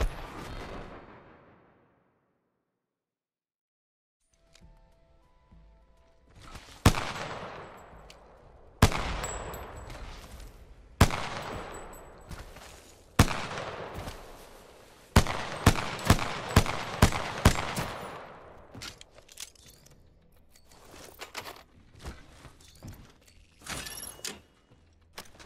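Incoming gunfire in the battle royale Apex Legends: sharp, loud shots and impacts that ring out and decay, spaced apart at first, then a rapid run of closely packed hits, after a brief near-silent gap.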